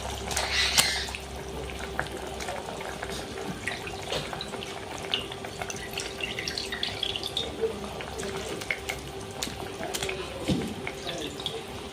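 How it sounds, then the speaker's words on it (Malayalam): Tuna pieces slide into a pot of simmering Kerala-style fish curry paste, giving soft wet plops and liquid splashes over a low, steady bubbling, close and fairly quiet. "അരപ്പ് തിളച്ചിട്ടുണ്ട് ചൂരമീനാണ് നമ്മൾ എടുത്തിരിക്കുന്നത് ഇതിലേക്ക് ഇട്ട് കൊടുക്കാം"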